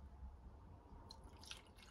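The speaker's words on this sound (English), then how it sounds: "use the degreaser neat directly onto the chain" Neat degreaser poured onto a road bike chain in a small container gives faint wet drips and soft squishy splashes, a few close liquid spatters over a low background.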